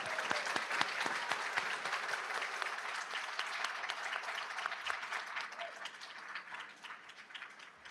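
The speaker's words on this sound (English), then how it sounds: "Please give this group of students another big round of applause." Sustained applause from the audience at a community college honor society induction ceremony. The clapping is dense, with crisp individual claps near the start, and it tapers slightly toward the end.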